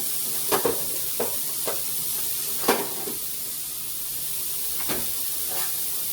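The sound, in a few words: thyme chicken and cauliflower starting to cook in pan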